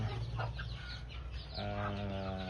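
Chickens cluck in a backyard poultry pen of raptor and super brown red fowl, a steady busy flock chatter with a few louder calls near the microphone, no talk over it.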